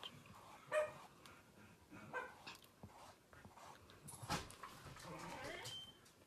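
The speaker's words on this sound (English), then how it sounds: "my dogs, they have to bark at everyone." Dogs bark indoors in short, scattered bursts, fairly faint and somewhat distant, with a few yips mixed in while a person talks nearby.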